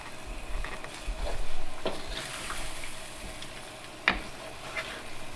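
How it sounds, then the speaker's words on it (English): About three tablespoons of butter melting in a very hot pan while a spoon stirs it: a steady soft hiss with a few light spoon clinks and scrapes, one sharper knock standing out, and no talking. "Just give it a little stir. It's going to melt off from your spoon because we're at a high temp."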